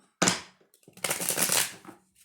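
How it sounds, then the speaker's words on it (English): A deck of tarot cards is shuffled by hand at close range: a short riffle burst, a pause, then a longer crisp flurry of card flutters. "Actually, I'm going to shuffle."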